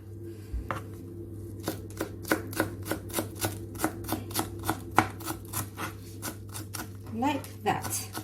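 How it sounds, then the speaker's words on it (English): Fresh coriander being chopped with a knife on a board, a steady run of crisp, evenly spaced close-up knocks over a low background hum. "Get fresh coriander and chop them up."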